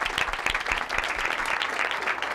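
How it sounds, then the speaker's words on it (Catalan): An audience at a Catalan school gives dense, steady applause to visiting guests, a brief continuous wash of many hands clapping close by with no talk. "així que un fort aplaudiment per elles"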